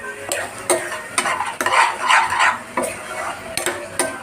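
Mushrooms cooking in a pan of gongura curry, with a soft steady sizzle under repeated clinks and scrapes of a spoon stirring at a regular pace, close by and with no voices.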